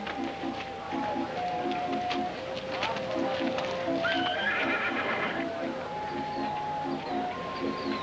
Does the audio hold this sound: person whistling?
no